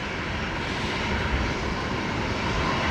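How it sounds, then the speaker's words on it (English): Jetstar jet taking off from runway 19 right at Brisbane Airport at night, a steady, loud broadband engine roar holding level throughout without voices. "JetStar 674, runway 19 right, cleared for takeoff"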